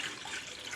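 Water poured from a vessel into a bowl of whisked curd for a spinach and gram-flour curry, a short, steady splashing trickle close by with no talking.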